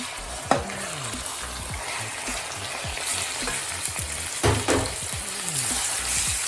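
Chicken frying with golden brown onions sizzles loudly and steadily in a pan as a spoon stirs and scrapes, with a sharp clatter at the start and bursts of hiss as pieces move, no talk.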